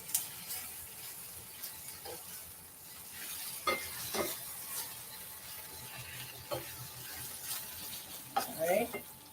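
Onions fry in a pan with a soft, steady sizzle, broken by occasional scraping stirs and utensil clinks, all faint and close.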